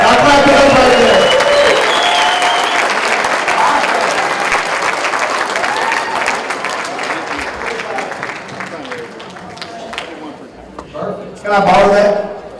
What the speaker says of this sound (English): I'll clap it up right there